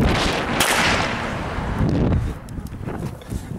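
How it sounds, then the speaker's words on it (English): Firecrackers set off outdoors: loud, harsh blasts of broadband noise that bunch in the first two seconds, then fade into a rougher, choppier rumble. No voices are heard. "before we start throwing some more firecrackers"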